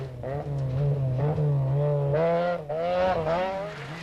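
Opel Astra rally car at the 1990 Cartel rally pushing through marker tapes, its engine rising and falling in loud revving surges with skidding tyres close by.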